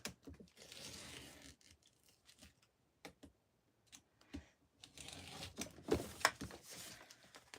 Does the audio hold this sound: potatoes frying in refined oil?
no